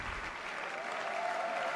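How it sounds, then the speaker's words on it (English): An audience at a Blaston LAN Cup esports event at MAGFEST claps in sustained, moderately close applause with no voices on top. "Round of applause."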